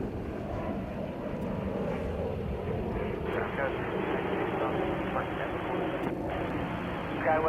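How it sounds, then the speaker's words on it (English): Steady roar of a United Airbus A321neo jet at Chicago O'Hare, a constant broadband engine rumble heard at moderate distance throughout, with faint radio chatter underneath. "You're looking at United Flight 1616 on its way to Portland."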